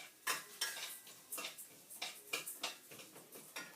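A spoon stirs toasting rice in a pan, making a series of light scraping clinks that come in uneven bursts about twice a second. The sound is quiet and close.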